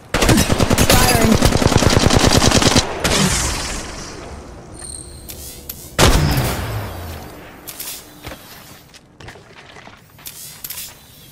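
Loud rapid automatic gunfire from the Apex Legends Mobile video game, a dense burst of shots lasting a few seconds, followed by scattered single booms and shorter bursts.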